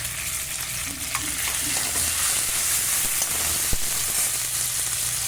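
Curry leaves hit a hot pan with ginger and garlic, a loud continuous sizzle and frying crackle with stirring scrapes and a sharp tap near the end, no voices.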